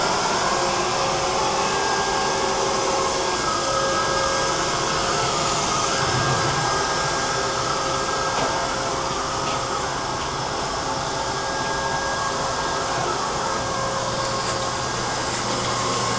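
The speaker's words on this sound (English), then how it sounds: "I'm gonna let these robots just kind of vacuum upstairs." Neato Botvac robot vacuum cleaner running upstairs, a loud continuous whirring motor drone with a brushing hiss, steady and close throughout with no speech.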